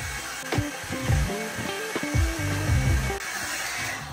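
A hair dryer blows steadily while long shag hair with curtain bangs is dried. The motor gives a loud, constant whoosh, close by, and its pitch shifts and warbles as the dryer moves around the head. No one speaks.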